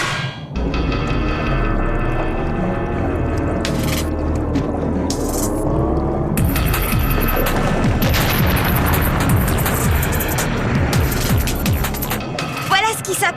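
A roaring cartoon explosion in a French animated spy series bursts in partway through and churns on as a dense, rumbling blast, with characters' voices heard before and during it.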